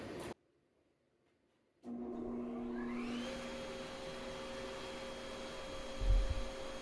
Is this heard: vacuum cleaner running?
yes